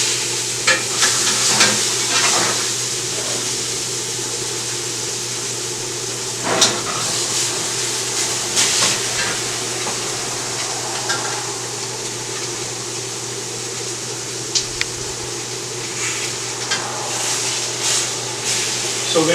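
A steak sears in a hot pan after being turned, giving a steady, close sizzle that runs the whole time, with occasional soft scrapes and clinks over the hiss and a low hum underneath.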